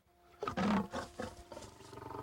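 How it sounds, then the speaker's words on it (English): Several lions and tigers rescued by air roar in loud, overlapping bursts, one strong roar near the start followed by shorter grunting calls, close by and with no talk over them. "They were roaring."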